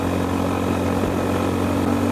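A Honda GB350S single-cylinder motorcycle engine revving hard at highway speed, a steady loud drone with wind rush that holds constant throughout, with no talking.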